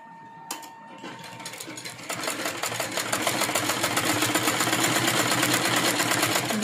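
A sewing machine stitching piping onto fabric, starting with a click and then settling into a fast, steady mechanical whir that grows louder and runs continuously close by.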